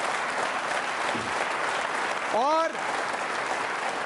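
Studio audience applause at a televised quiz show for trainee state service officers, a steady broadband wash of clapping filling the whole stretch, with a brief spoken word and a short tonal vocal sound rising over it.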